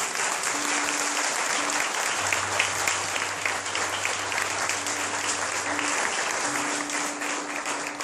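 Church congregation at a Cerco de Jericó service applauds the Lord, sustained dense clapping throughout with a faint low hum and tones in the background.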